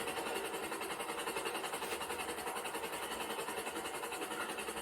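A video game train in Grand Theft Auto V chugs along with a steady, rapid mechanical rhythm, continuous and fairly close, with no voices over it.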